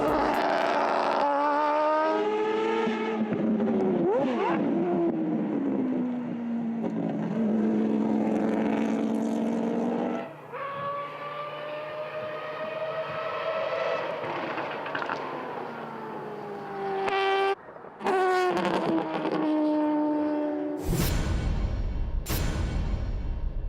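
A race car engine held at 9,000 RPM at a Turbo Smart Flying 500 single-car drag-racing event. It makes a loud, sustained high-revving howl that shifts pitch as it passes, with no talk over it, then cuts to sharp bangs near the end.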